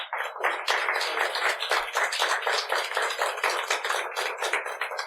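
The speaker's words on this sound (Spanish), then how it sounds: "Dale un aplauso a Jesús." Applause from a church congregation during a sermon, steady dense clapping from many hands that holds at an even, fairly loud level throughout with no voices over it.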